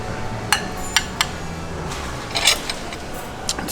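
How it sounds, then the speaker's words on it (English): Metal spoons clinking and scraping on a plate of charred Brussels sprouts in a hotel restaurant, a few sharp, close clicks over a steady background hum. "just take a little bit of these weird looking spoons. Scrape on the plate here."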